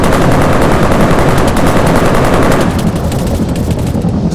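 Sustained, loud machine gun fire in the Arma 3 military video game with modded weapon sounds: dense, continuous bursts of rapid shots with no pauses, easing slightly toward the end.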